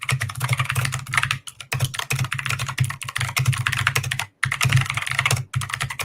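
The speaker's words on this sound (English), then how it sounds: "It's brown mechanical keyboard switches." Rapid, steady typing on a mechanical keyboard with brown switches, a dense close-up patter of keystrokes with a few brief pauses and no talking.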